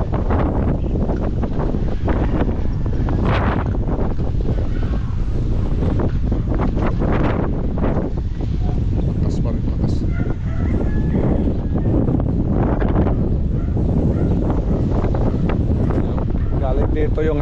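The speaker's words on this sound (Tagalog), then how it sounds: "Dito yung hangin, no? Malakas." Strong typhoon wind roars and buffets continuously with gusty surges and microphone rumble at an urban garden, while people talk intermittently under the din.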